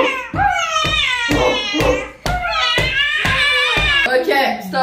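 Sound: child imitating an angry cat

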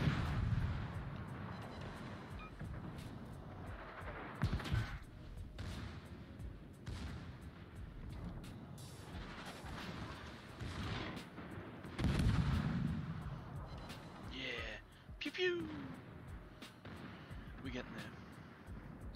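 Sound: warship cannons firing, from a video game

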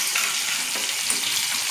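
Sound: dry chili and onion frying in oil

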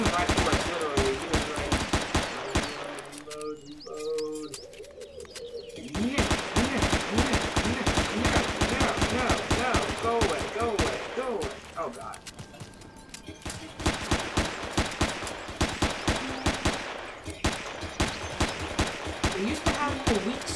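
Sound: minigun firing in video game Empyrion

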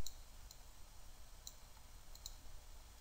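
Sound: left mouse button clicking

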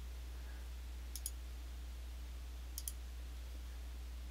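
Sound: mouse clicking in architectural drawing software

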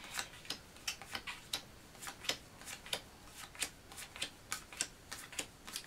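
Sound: handling character cards from Joan of Arc board game

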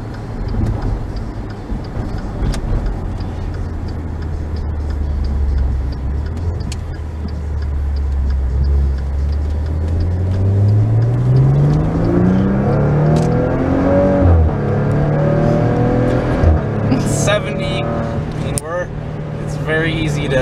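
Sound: 2015 Maserati Ghibli SQ4 accelerating

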